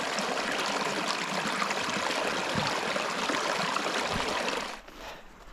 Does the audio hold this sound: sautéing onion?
no